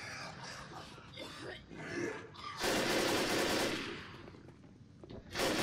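Assault rifle bursts in the Left 4 Dead video game, rapid automatic fire in loud stretches, mixed with talk and game noise.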